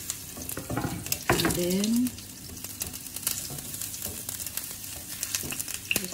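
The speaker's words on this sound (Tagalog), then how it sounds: "mainit na yung oil. So, lagay natin yung onion" Onion hits hot oil in a pan and gives a close sizzle and fry with some stirring clatter, loudest near the start and then settling into a softer crackle while a voice speaks briefly.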